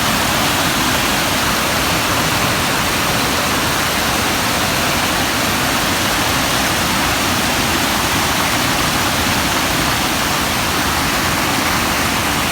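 Floodwater rushes after a storm, a loud, dense, unbroken roar of flowing water that stays steady throughout with no voices.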